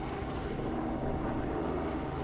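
A helicopter flies over an airsoft field, its rotor and engine making a steady, loud droning roar throughout with no talk.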